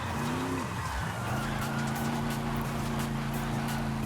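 A light, low-power budget car in Forza Horizon 5 slides through corners, its engine droning steadily with a brief dip and recovery and faint tire scrub, loud and continuous with no talking.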